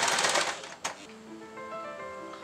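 Sewing machine running a straight seam through raw silk while shaping a neckline, a dense rapid stitching burst at first, then a brief clack and a quieter steady mechanical hum.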